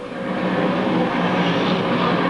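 A race car engine on an oval dirt track at Rolling Wheels roars with a broad, steady drone as the driver feathers the throttle, loud and sustained.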